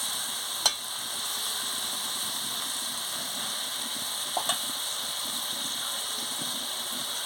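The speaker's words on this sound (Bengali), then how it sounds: "ভালো করে এটাকে নাড়িয়ে নিচ্ছি" Pangas fish curry (bati chorchori) sizzles steadily in a pan while being stirred, a constant frying hiss with a couple of brief utensil clicks.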